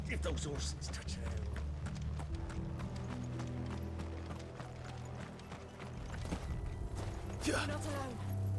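Horses' hooves clip-clop in Final Fantasy XVI, a rapid run of quick, even hoof strikes over a low rumbling ambience, with a brief whinny-like rise near the end and voices talking over it.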